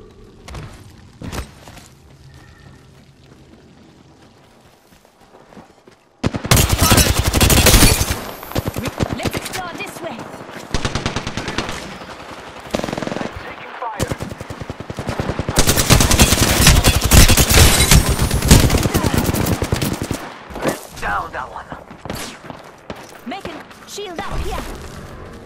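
Rapid automatic gunfire from the shooter game Apex Legends erupts after a quiet start, with dense loud bursts and shorter volleys continuing over about twenty seconds amid game clatter, with talking at times.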